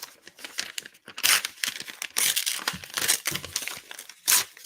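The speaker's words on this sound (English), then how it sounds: "Can you all hear me ripping the paper?" Paper ripped and crumpled by hand while unwrapping a Dawn of the Dead 4K disc set, loud close tearing bursts and crinkles in uneven spurts with short pauses.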